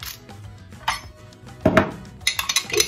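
A spoon clinks against a bowl while salad sauce of garlic, rosemary and pepper is mixed, giving a few sharp metallic taps and scrapes, loudest near the end, with quieter handling sounds between.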